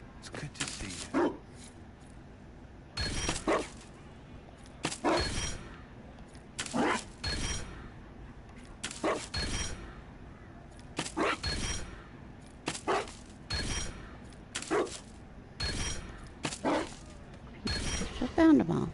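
A dog in Dragon Age Inquisition gives repeated short barks and whimpers in regular bursts about every two seconds, fairly quiet and surrounded by game ambience, with a voice speaking nearby.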